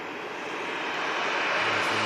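A Luxair Dash 8 turboprop departs Manchester in thick fog, its engines a broad, loud, steady roar that builds slightly over a couple of seconds.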